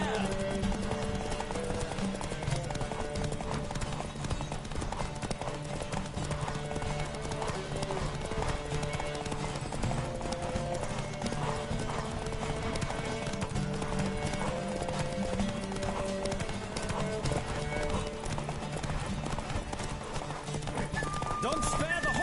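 In The Witcher 3, a horse gallops with continuous rhythmic clip-clop hoofbeats and neighs now and then, under game music and voices talking throughout.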